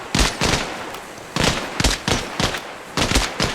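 Bursts of rifle gunfire in ARMA Reforger, loud and close, fired in short rapid volleys of several shots with brief pauses between them, no talk.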